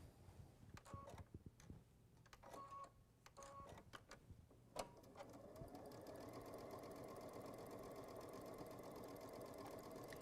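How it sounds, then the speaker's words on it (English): A sewing machine top stitching a pillow hem: a few short clicks and bursts at first, then a continuous fast mechanical whir from about five seconds on, close and fairly quiet. "Now I'm gonna go ahead and top stitch."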